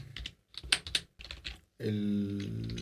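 Code is typed on a computer keyboard in short bursts of quick, close key clicks with brief pauses between them, and a voice comes in over the last second.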